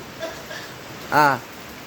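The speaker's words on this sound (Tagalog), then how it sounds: "Lakas pa rin ng ulan" Steady hiss of heavy rain throughout, with a brief voice breaking in partway.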